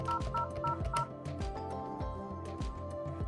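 A desk phone keypad beeps out a rapid series of DTMF tones while a voicemail password is entered, each short tone distinct and close, over faint background hum.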